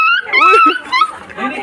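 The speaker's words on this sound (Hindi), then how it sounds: "यहाँ पे छोटे छोटे कुत्ते लड़ रहे हैं" Small dogs fighting, giving high, thin yelps and whimpering whines in quick, close bursts that rise and fall over a couple of seconds.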